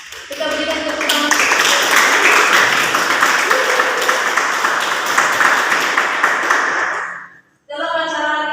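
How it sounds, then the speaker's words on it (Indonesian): An audience at a student seminar gives the speaker a warm round of applause, clapping steady and fairly loud for several seconds before stopping abruptly, with a voice returning afterward over faint music. "Kita berikan tepuk tangan"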